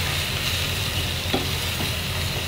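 Vegetables such as squash sautéing in olive oil in a pan, a steady close sizzle and hiss with faint stirring scrapes, no talking.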